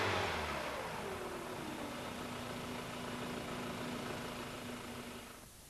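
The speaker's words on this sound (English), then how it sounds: "Race the engine repeatedly and operate the engine for 15 minutes or longer." A Toyota Celica T23 engine, a 1ZZ or 2ZZ, revs briefly at the start, then settles into a steady, even idle hum close by.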